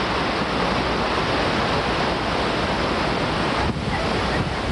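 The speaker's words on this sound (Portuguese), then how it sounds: "O tsunami chega de maneira violenta e desordenada ao litoral." Tsunami waves surge onto the coast of Juan Fernández Island after the 2010 Chile earthquake: a continuous, dense roar of churning water and wind, steady and loud throughout with no voices.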